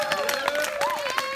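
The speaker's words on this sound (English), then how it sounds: "could we get a big round of applause for Ed Perez and Steffi Nepper?" Banquet audience applauding award recipients Ed Perez and Steffi Nepper at the AVM 2020 awards presentations, with scattered claps mixed into loud cheering, whoops and overlapping crowd voices throughout.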